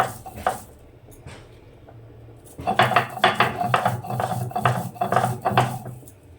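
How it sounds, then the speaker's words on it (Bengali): Pumpkin leaves ground into paste on a stone slab, a steady rhythmic rasping and scraping of stone on stone that starts softly and then grows loud and continuous in repeated close strokes. "আমার এক বাটা দেওয়া হয়ে গেছে আর এক বাটা দিয়ে তুলে নেব"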